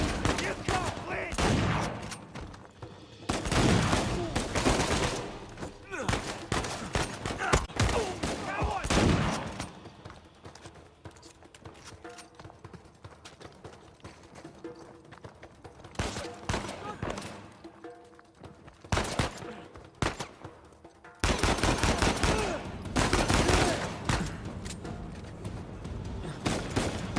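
Gunfire in the video game Uncharted 4 comes as dense, loud bursts of rapid shots and fusillades, alternating with quieter stretches, sustained across a long firefight.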